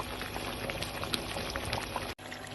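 Chicken charsi karahi bubbles and sizzles steadily in the karahi pot, a dense continuous frying hiss with scattered pops, close and even throughout.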